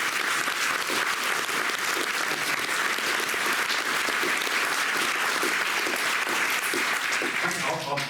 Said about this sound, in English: I'm swept away with all this applause.